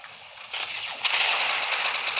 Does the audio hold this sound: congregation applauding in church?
no